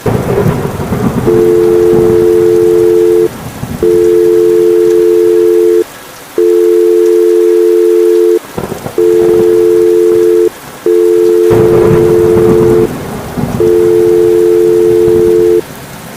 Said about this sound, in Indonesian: Coba gue telepon deh.